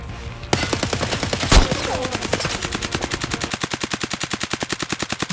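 Gunfire in Escape From Tarkov: a single loud shot, then a rapid automatic burst of evenly spaced reports that continues steadily to the end, close and sharp with no talk.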